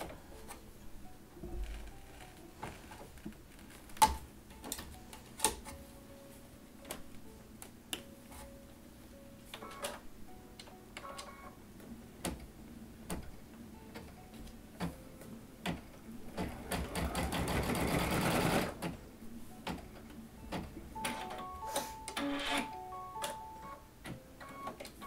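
An embroidery machine stitches across slipper ears in the hoop, giving rapid ticking needle taps with a denser whirring burst partway through and no talking.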